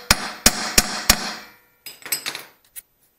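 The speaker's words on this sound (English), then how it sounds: "with a hammer I just shock the drum a little bit like this" Four sharp metallic hammer strikes on a Land Rover transmission brake drum, evenly spaced and ringing briefly, followed by a few lighter clanks and a final tap.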